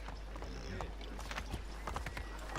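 Horse hooves clip-clopping in a steady trot in the Assassin's Creed video game, with a brief whinny, fairly faint under game noise and a voice talking.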